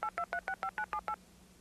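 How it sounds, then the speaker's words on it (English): A telephone automatically dialing a call with DTMF tones: eight crisp, evenly spaced beeps in quick succession, each a short dual-pitched tone, followed by a low hum. "the phone automatically makes the call for me"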